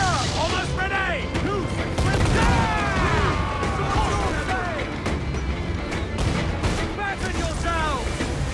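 Ship cannons fire in repeated booming volleys during an Assassin's Creed 4 Black Flag pirate naval battle, loud and dense, with shouted crew voices over the broadside barrage.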